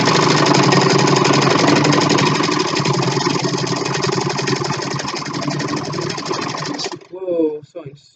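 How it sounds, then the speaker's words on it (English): A sewing machine stitches rapidly while a cloth face mask is being made. The needle chatters in a dense, steady buzz for about seven seconds, then stops abruptly, and a voice follows. "I was sewing super fast right there"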